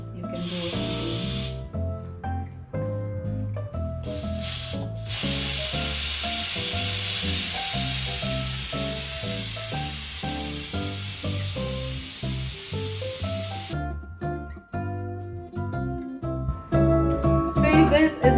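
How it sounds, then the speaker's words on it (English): Steam vents from a Ramtons RM 582 electric pressure cooker in a loud, sustained hiss that runs for several seconds, breaks off briefly, then resumes in shorter bursts. "you see that all that steam is going somewhere"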